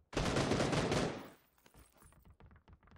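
A close, loud burst of rapid automatic M4 rifle fire in PUBG lasts about a second and then cuts off. Sharp, scattered metallic clicks and clatter follow the burst.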